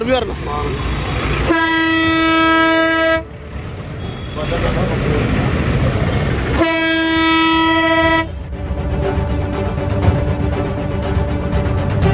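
A truck horn fitted on a tractor blares in two long, loud, sustained blasts separated by a pause, with people talking nearby between the blasts.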